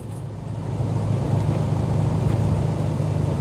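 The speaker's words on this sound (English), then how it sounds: "Hear this rattly old car." An old Jeep XJ Wagoneer Limited drives along with a steady low engine drone and broadband road rumble, growing slightly louder after the first second, with faint rattly interior noise and no talking.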